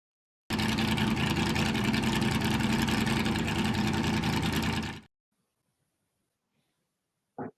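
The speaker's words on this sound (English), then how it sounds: "that's actually my Honda Civic. I took a microphone to it" A Honda Civic engine recorded up close with a microphone gives a steady, dense droning rumble for about four and a half seconds, then cuts off abruptly into near silence.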